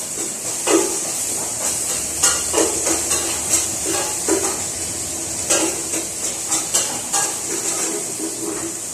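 Garlic sautéing in a hot pan as the base for mung beans with beef, giving a steady broadband sizzle with repeated utensil scrapes and clinks against the pan, close and fairly loud, with no talking.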